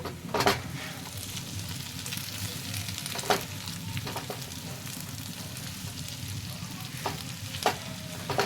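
Potatoes for aloo chilli fry in a pan and are stirred. A steady sizzle runs throughout, broken by a few sharp scraping strokes of the spoon against the pan.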